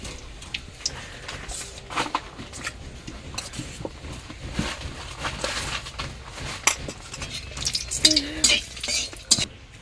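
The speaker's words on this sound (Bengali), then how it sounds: "তেল তেজপাতা শুকনা লঙ্কা এখন একটু মেখে নিই" A spoon stirs bay leaf and dried chili in hot oil in a pan, with soft scraping, faint sizzling and irregular metallic clinks against the pan.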